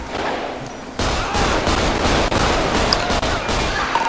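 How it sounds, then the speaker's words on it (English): Gunshots in GTA V with the LSPDFR police mod: a loud, close flurry of rapid shots that starts abruptly and carries on steadily to the end. "We got shots fired."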